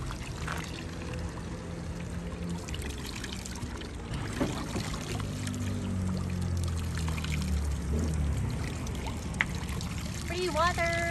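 Water pours steadily from a free public tap in Switzerland, a continuous splashing trickle close by, while people talk over it.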